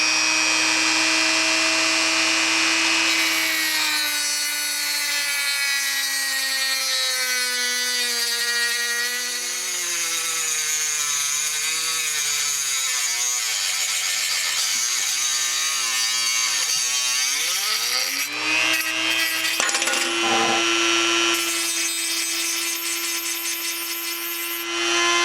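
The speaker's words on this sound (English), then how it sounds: "I'm just going to use my Dremel with a little cutoff wheel over here." A Dremel rotary tool with a small cutoff wheel cuts through a toilet flush lever, a steady high whine that shifts pitch as the wheel bites and drags, then spins freely near the end, loud and close with no talk.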